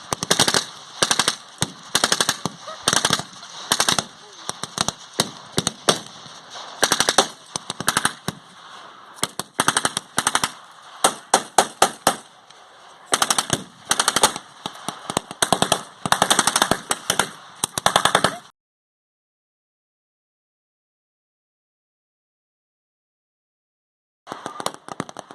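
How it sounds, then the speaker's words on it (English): Loud machine gun fire at a desert skirmish battle reenactment between Italian and British sides, including .50 calibre guns, heard as long and short rattling bursts that overlap almost constantly, then a sudden stretch of silence before another brief burst at the end. "The Italians have fired up, and the Brits are trying to return fire."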